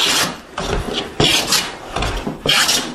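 A hand plane shaves a wooden board in about five rhythmic rasping strokes, each a loud, close scrape with a brief gap between passes, heard alone without speech.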